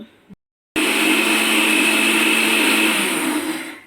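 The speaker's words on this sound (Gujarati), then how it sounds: "જો આપણે પીસી લેવાના છે બધા બિસ્કિટ" A blender grinds biscuits for modak, starting after a brief click and pause, then holding a loud, steady motor whine with a whirring grind for about three seconds.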